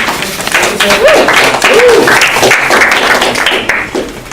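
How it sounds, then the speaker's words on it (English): Audience applause for a speaker at a tech talk, loud clapping mixed with cheering voices and crowd noise. "let's give him a applause"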